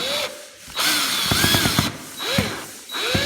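A power drill unscrews screws from a ceiling fan hanging bracket. It whirs close up in repeated bursts, with rapid ratcheting clicks as the screws back out.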